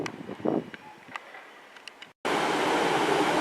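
A Great Western Railway train from Penzance to Newton Abbot pulls out at Plymouth: quiet platform ambience with faint clanks, then an abrupt, loud, steady roar that holds to the end.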